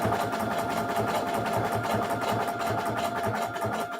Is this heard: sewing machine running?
yes